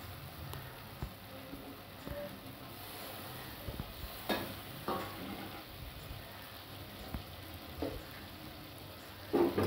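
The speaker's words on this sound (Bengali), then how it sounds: "মশলাটা কষানো হচ্ছে" A spice paste for chicken curry sizzles quietly in a pan, a soft continuous fry with occasional scraping stirs and small pops.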